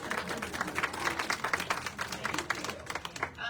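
An audience claps for a live model at a clothing presentation. The claps are dense and rhythmic, each one crisp and distinct, and they keep up a steady round before tapering off at the very end.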